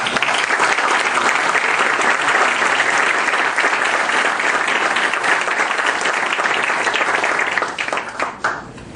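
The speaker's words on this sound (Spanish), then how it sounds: "Yo pido un aplauso para los maestros." A crowd at a Spanish-language book presentation applauds the teachers with loud, sustained clapping that holds steady for several seconds before fading quickly near the end, with no talking over it.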